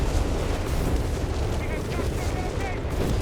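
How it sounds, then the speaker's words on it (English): Heavy artillery shells strike in Company of Heroes 3, rolling out as dense, rumbling booms and explosions that overlap one another. A voice talks over the barrage. "Massive artillery strikes."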